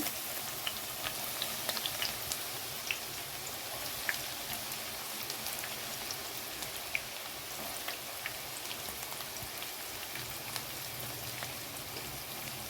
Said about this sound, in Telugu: ముందుగా కడాయి పెట్టుకుని నూనె పోసుకున్నామండి ముందుగా ఉల్లిపాయలు ఎర్రగా వేయించుకుందామండి